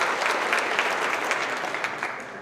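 An audience applauds employees at a trucking company's monthly celebration, a dense, steady wash of clapping from start to finish that thins slightly toward the end, with no voices over it.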